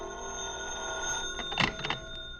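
An old telephone bell rings as a radio drama sound effect, a short jangling burst over a steady hum, moderately loud and with no voices.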